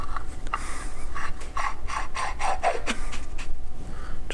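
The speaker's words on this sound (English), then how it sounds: "And then we're just going to screw the two pieces together." Two metal fuel heater delete parts for a 12-valve diesel engine being screwed together by hand, a steady series of small ratcheting clicks and scrapes at close range, with no talk.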